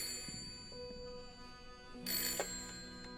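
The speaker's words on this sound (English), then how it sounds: "We got a phone call." Old telephone ringing inside a lighthouse in the horror game Layers of Fear (2023), a bright metallic bell burst over a low, eerie ambient drone.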